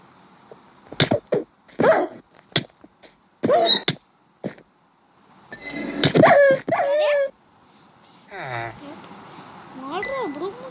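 A video-game dog whines, yips and barks in scattered bursts amid short clicks and game effects, while someone talks excitedly in between.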